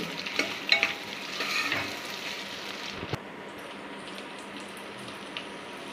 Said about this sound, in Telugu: క్యారెట్ ముక్కలను యాడ్ చేసుకోవాలి కలిసేలా ఒకసారి గట్టితో తిప్పాలి